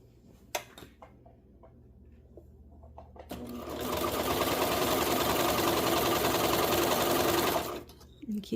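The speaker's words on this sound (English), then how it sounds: "you are top stitching that side there" A sewing machine top-stitches a patchwork romper in one sustained, loud, fast whirring run of about four seconds, preceded by faint handling clicks and taps.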